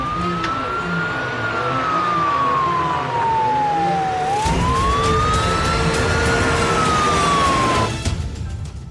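A police siren wails loudly and continuously, its pitch sweeping slowly up and down in long cycles as it holds close, with a vehicle rumble underneath and no voices.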